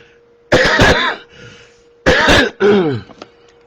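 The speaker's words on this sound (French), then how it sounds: "c'est l'horreur quand on tousse en live" Two loud, close coughing and throat-clearing fits, each a harsh burst followed by a rougher rasp, with a quiet gap between them.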